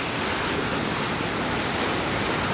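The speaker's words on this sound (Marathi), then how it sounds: "अशा पद्धतीने नदी दुथडी भरून वाहत आहे" The flooded Washira river near Itkur village, Dharashiv district, pours over farm fields in a dense, continuous roar of rushing water, loud and unbroken throughout.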